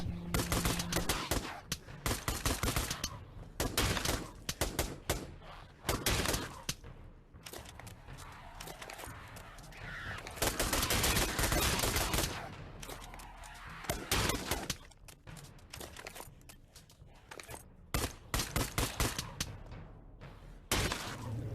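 Dual-wielded pistols fire in a VR shooter game, with dense bursts of rapid gunshots coming in several loud clusters across the stretch, broken by short quieter gaps; no one talks.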